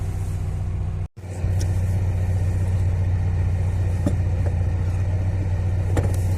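A car driving slowly on a cold, rainy day, its engine a steady low rumble heard from inside, with a brief dropout early on and faint clicks and taps over the hum.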